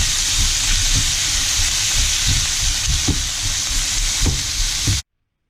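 Thin-sliced ribeye steak for Philly cheese steak sizzles steadily in a hot pan, a constant bright hiss with faint periodic clicks and no voices, then cutting off abruptly.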